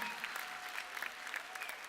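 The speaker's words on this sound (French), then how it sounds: "Bravo! On applaudit très fort le duo Marie Faggiano et Rachida Djelou." Audience applause at an afternoon ceremony, a steady wash of many hands clapping for a performing duo, sustained throughout at moderate distance with a few sharper claps standing out.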